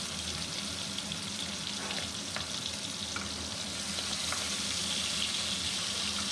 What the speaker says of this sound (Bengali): এখানে চিংড়ি মাছ ভেজে নিচ্ছি।